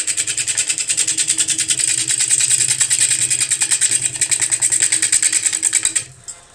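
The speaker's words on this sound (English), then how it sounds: "we can start cutting away the edges and get this curved and round into that outside of the bowl shape" A wood lathe turning a yarn bowl, with a tool cutting the outside curve. A loud, close, rhythmic chattering whir runs steadily, then cuts off near the end.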